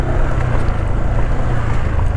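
A motor engine crossing a shallow river beside an unfinished, broken bridge, heard as a loud continuous low drone with wind buffeting the microphone and no talk.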